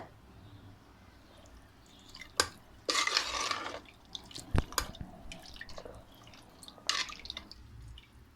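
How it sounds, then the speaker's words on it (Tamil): Water stirred into chicken rasam in a cooking pot makes quiet sloshing and dripping sounds, with a few soft clinks and splashes of a utensil against the vessel. "தண்ணி சேர்த்துட்டு அதை கொஞ்சம் நல்லா மிக்ஸ் பண்ணி விட்ருங்க."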